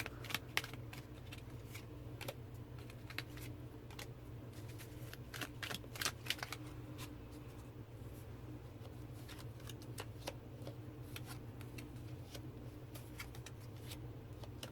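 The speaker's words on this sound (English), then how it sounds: "So I'll pull out cards from the Tarot Nova" Tarot cards from a Tarot Nova deck are shuffled close up in a quiet room, a soft continuous riffling broken by sharper flicks and taps of the cards, with no speech.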